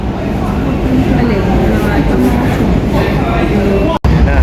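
A London Underground train rumbles steadily through a station, loud and close, while people talk over the noise.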